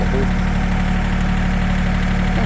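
A tractor engine idles with a steady, low rumble without pause, a constant mechanical drone filling the whole stretch, close and loud.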